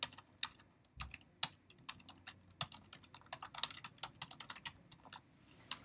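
A web address is tapped out on a computer keyboard: quick, irregular clicking keystrokes, close and fairly quiet, with a few heavier key hits and no talking.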